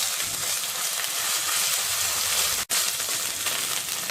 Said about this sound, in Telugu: ఇవి వేగిన తర్వాత అల్లం వెల్లుల్లి పేస్ట్ వేసుకొని పచ్చివాసన పోయేంత వరకు వేయించుకోవాలి